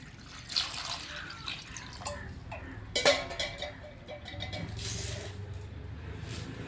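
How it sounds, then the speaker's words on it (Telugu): Tomatoes being washed in water, with scattered drips, splashes and light knocks of fruit in a vessel, louder clunks near the middle, then a steadier swishing toward the end. "ఇప్పుడు టమాటాల్లో నీళ్ళు పోసుకొని నీట్గా కడిగి పెట్టుకుంటా"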